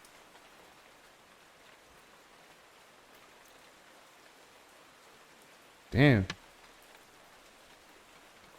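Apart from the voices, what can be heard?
rain falling outside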